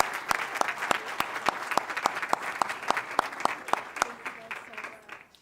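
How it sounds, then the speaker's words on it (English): A city council meeting audience gives a round of applause, a few loud individual claps ringing out in a steady rhythm over a softer crowd clapping, fading toward the end. "Let's give Bruce a big round of applause."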